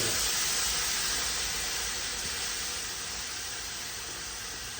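Vegetables sautéing with vegetable stock in a pan, a steady loud hiss and sizzle close up that fades slightly toward the end, no talking.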